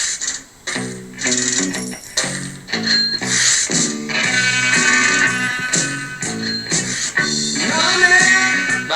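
Music playing back from a vinyl record: a full mix with steady rhythmic chords, bright cymbal-like highs and sustained melodic lines, continuous and fairly loud, no voices over it.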